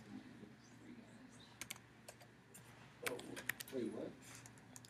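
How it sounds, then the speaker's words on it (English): Computer keyboard typing comes in short bursts of clicks at low level, mixed with quiet talking in a classroom. "I just was typing and not looking."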